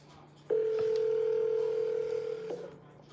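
Telephone tone on an outgoing call, a single steady electronic beep held for about two seconds, clear and close.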